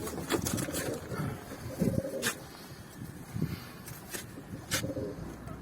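Pigeons coo softly in a loft or coop, low repeated calls under steady background noise, with a few sharper bird sounds scattered through.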